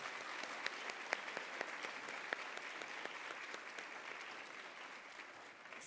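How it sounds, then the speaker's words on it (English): Sustained applause from a sizable audience, steady and even throughout, heard from a moderate distance with a few sharper individual claps standing out. "Can we please give another round of applause to all of our presenters?"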